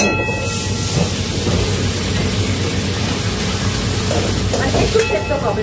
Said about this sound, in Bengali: আমরা এবারে দেবো স্টক। ঠিক আছে, স্টক মানে গরম জল।